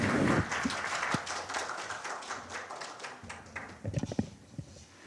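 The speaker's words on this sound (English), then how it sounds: "Please give him a big round of applause." Audience applause at a policy conference on the New Southern Policy, a steady patter of clapping from a seated crowd that thins out, with a few close, sharper claps near the end.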